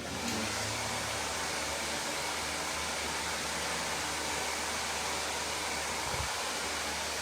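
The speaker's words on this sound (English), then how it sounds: "literally just using just normal blow dryer" A blow dryer runs continuously with a steady, loud whooshing hum, unbroken from start to finish and no talking over it.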